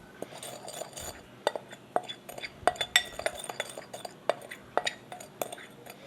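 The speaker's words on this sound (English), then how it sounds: "So we're gonna mix a little extra together and just mix that around." A spoon clinks and scrapes against a bowl while holiday cookie ingredients are stirred together, a quiet, irregular series of sharp taps spread across several seconds, close by.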